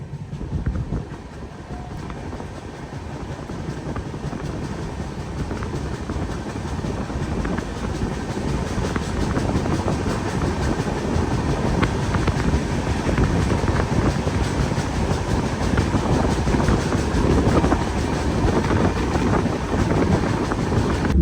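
Ajmer to Durg Weekly Express train running on the rails, a steady loud rumble with clattering wheel noise and some wind buffeting the microphone, continuous throughout with no talking.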